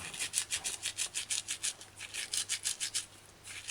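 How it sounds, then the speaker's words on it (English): Rosemary ground fine for an eggplant tomato stew gives a soft, steady rhythmic rubbing and scraping, about a dozen quiet even strokes close by with no talking. "So you want the rosemary to be grinded fine."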